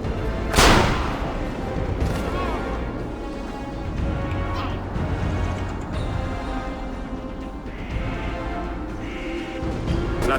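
Cannon fire in the video game Assassin's Creed Revelations: one sharp, loud boom near the start, followed by dense, continuous battle noise with rumbling and clatter.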